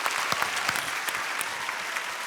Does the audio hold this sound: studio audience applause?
yes